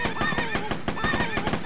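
A horse whinnies in a long, wavering neigh, close and loud, with faint hoof clops underneath, in the medieval tower defence video game Medieval Defenders.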